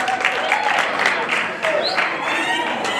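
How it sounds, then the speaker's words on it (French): Audience at a Senegal-themed quiz final applauding a team's correct answer, dense clapping sustained throughout with crowd noise and some talk mixed in. "On applaudit."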